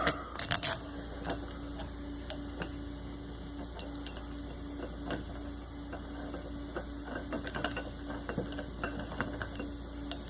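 A ratchet tightens stainless bolts fitted with neoprene washers on a sump during installation, giving a series of close, sharp clicks in uneven bursts over a steady low hum, with no voices.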